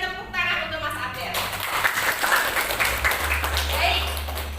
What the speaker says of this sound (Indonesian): Kita berikan tepuk tangan untuk Mas Abel.